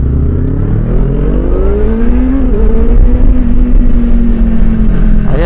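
A Kawasaki Z650 RS motorcycle fitted with a Yoshimura exhaust revs steadily and loudly close by, its engine note rising and falling in a continuous throaty drone with no talking.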